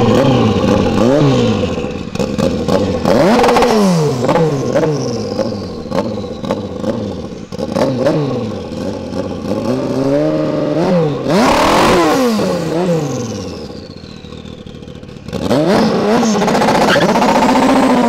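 A Honda CB1000 turbo motorcycle accelerates at full power, loud and close, its engine revving hard and climbing through the gears in repeated rising sweeps with brief dips between shifts over about eighteen seconds.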